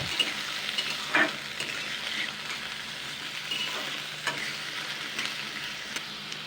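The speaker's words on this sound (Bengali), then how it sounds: "খাবার প্রথমে পটলটাকে আমি দুই তিন মিনিট হালকা করে ভেজে নেব" Pointed gourd (potol) pieces fry lightly in a pan, a continuous soft sizzle with a few sharp stirring scrapes and clicks of a utensil, close and alone without any talk.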